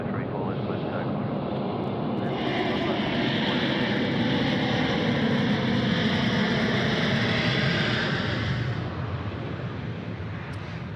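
A Cebu airliner taking off from runway 34 left at Sydney Airport, a loud sustained jet engine roar with a broad rushing hiss that holds steady and then eases slightly near the end.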